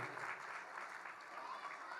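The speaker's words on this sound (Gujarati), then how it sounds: "એમને પણ જોરદાર તાળીઓના ગણગણથી." A festival crowd claps for a trustee at a Janmashtami celebration, with steady, faint and slightly distant applause that continues throughout.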